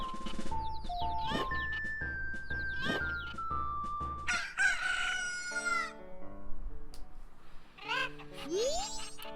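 Several roosters crow in Zelda: Majora's Mask, drawn-out cock-a-doodle-doo calls overlapping one another, joined by clucking and a springy boing near the end, with no talk.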